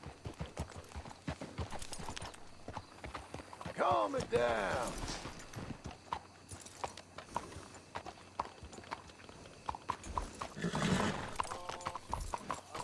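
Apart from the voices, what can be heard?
horses clip-clopping and whinnying in video game Red Dead Redemption 2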